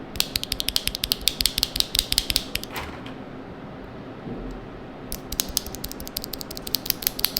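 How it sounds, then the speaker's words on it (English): Rapid clacking keystrokes from an Epomaker TH80 mechanical keyboard, close up, in two bursts of fast typing separated by a brief quieter pause. "Here's a sound comparison from this one to the yellow switches that came in the keyboard originally."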